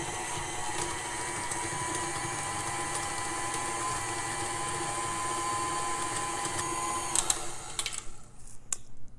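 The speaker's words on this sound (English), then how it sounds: "can use a stand mixer or just like your hand electric mixer" An electric hand mixer whirs steadily and close up as it beats raspberry cheesecake cookie dough, with the motor holding an even drone before slowing and stopping with a few rattles near the end.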